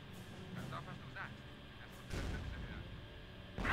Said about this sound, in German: Ein Panzerabwehrgeschütz.